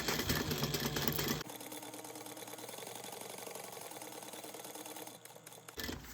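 A sewing machine basting a seam on a backpack runs in a fast, steady mechanical whir of stitching at close range, stopping briefly near the end before starting again.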